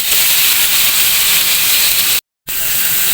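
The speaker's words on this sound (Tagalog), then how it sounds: "Iprito ko lang siya saglit" Slices of pork heart frying in a hot pan make a loud, steady sizzling hiss close up. It runs unbroken except for a brief cutout near the end, with no talking.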